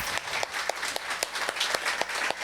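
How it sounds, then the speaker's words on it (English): An audience at a book event applauds, a smaller crowd producing brisk, distinct claps at close range for a couple of seconds, with no talk. "Let's give Jean another round of applause."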